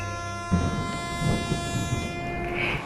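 A train rumbles past with a steady, loud horn tone sustained throughout, wheels clattering underneath.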